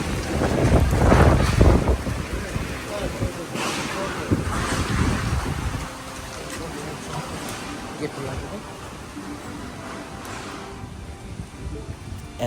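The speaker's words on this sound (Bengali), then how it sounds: "এত জোরে বাতাস হচ্ছে" Strong storm wind gusts hard past the microphone at night, roaring loudest early on and then easing to a steadier blustery rush, with people talking underneath.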